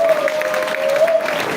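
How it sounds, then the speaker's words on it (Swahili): A church congregation at a dedication service claps for Jesus, a steady crowd applause with a sustained tone ringing through it. "Kama sasa unaniona, pigia Yesu makofi mazuri."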